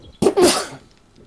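A single close sneeze, sharp and loud, rising in a quick burst and trailing off within about a second, heard alone with no talk, during German gameplay chatter over the survival game 7 Days to Die.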